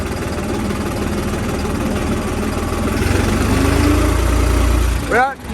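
A Holland 3630 tractor engine runs with a steady low rumble that swells slightly louder, then fades near the end as a brief voice cuts in.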